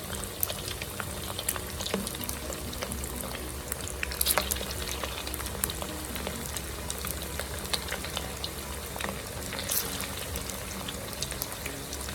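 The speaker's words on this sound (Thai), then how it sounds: "หลังจากที่น้ำมันร้อนปุ๊บเราก็จะนำหมูที่เราหมักไว้แล้วใส่ลงไปค่ะ" Steady, crackling sizzle of marinated pork frying in hot oil, continuous and fairly close, with occasional sharper pops and no voices.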